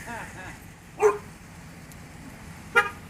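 A single sharp puppy bark at a plant nursery stands out clearly, followed by a second short bark near the end, both over quiet background noise.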